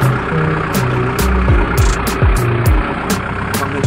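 A steady, loud quota tractor engine, unit 5013, runs at idle with a low rumble, while sharp intermittent clanks and knocks punctuate it up close.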